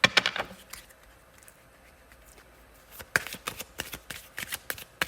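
Tarot cards are shuffled by hand, a quick burst of riffling at the start, then a quiet pause before a run of crisp, close card flicks and slaps in an uneven rhythm.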